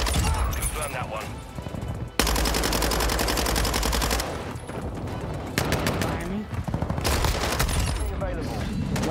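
Loud, close bursts of automatic SMG fire in a shooter video game, with sustained rattling volleys broken by brief gaps and scattered in-game effects.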